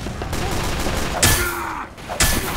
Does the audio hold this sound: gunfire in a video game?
yes